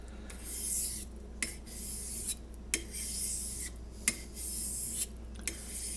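A Heljestrand straight razor is honed on a stone in steady, even strokes. Each pass gives a soft hissing rasp with a faint click at the turn, and the rhythm repeats about every second.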